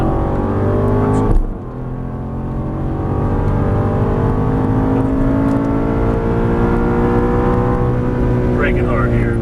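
An Aston Martin GT race car's engine drones loudly and steadily under acceleration on a Las Vegas track, the pitch climbing through the gears with a brief dip near the start, while an instructor's voice talks over it.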